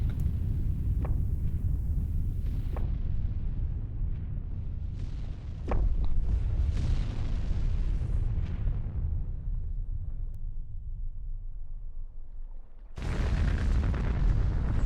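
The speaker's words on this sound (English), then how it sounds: "I love how it sends 2 nukes to the 1 biter base" Nuclear strikes hitting an alien biter base in a factory-building game: long, deep rumbling blasts roll continuously, with sharp cracks layered over them and a fresh loud burst near the end.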